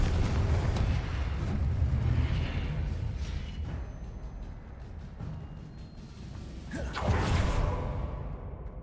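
Confringo blasting spell from the Hogwarts Legacy video game, a deep rumbling explosion with a whooshing burst that swells, fades, then flares again with a second crackling blast, loud and alone.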